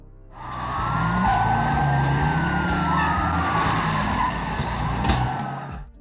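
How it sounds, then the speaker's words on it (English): A pack of police cars speeds through city streets in a chase from the 1980 film The Blues Brothers, with loud tire squeals and skids layered over wailing sirens and roaring engines, dense and continuous for several seconds. "they were stunned to see dozens of police cars barreling through their neighborhoods"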